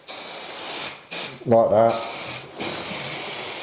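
Glue sprayed to stick carpet underlay down around the edge of a room, heard as short steady hissing bursts separated by brief pauses, fairly close, with a voice speaking briefly in between.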